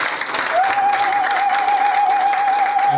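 A church congregation applauds in a steady, dense wash of clapping that fills the whole stretch at even loudness, with a sustained tone running beneath it from partway through.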